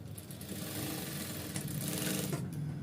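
A sewing machine stitches a straight seam on an ankle-length pencil pant, a continuous close whirring drone that holds steady throughout with no talk.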